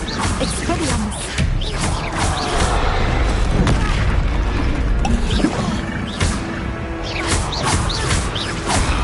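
Casting the Expelliarmus disarming spell in the Hogwarts Legacy video game during a troll fight brings dense booms, crashes and clattering effects over a continuous loud game soundtrack.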